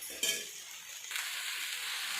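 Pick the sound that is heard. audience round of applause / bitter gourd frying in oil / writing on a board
bitter gourd frying in oil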